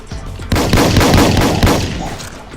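Gun firing in a Roblox game, a rapid burst of loud, close shots running together in quick succession before fading.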